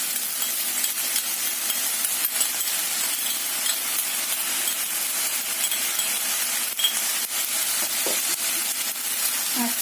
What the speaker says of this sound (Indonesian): Aduk sampai rata ya.